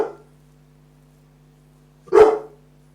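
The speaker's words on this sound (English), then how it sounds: "Hang on, I'll keep barking and my owner might let me out too." A dog gives a single loud, close bark after a second of quiet, with the clipped tail of an earlier bark at the start and a low steady hum running beneath.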